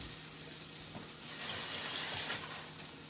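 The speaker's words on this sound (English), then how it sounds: "And I'm going to add a little bit of water" Water poured into a pan of catfish gravy, a soft hissing rush with faint sizzling, quiet and close, rising slightly partway through, with no talk.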